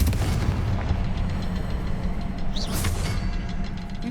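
Confringo blast spell explosions from the video game Hogwarts Legacy, booming in a dense rumbling layer with a brighter burst near the middle, no voices heard.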